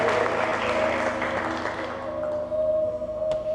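Applause from a church congregation during a sermon, a broad wash of clapping that thins over a few seconds, with a sustained organ or keyboard tone beneath.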